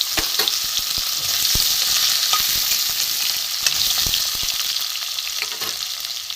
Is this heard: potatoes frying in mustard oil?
yes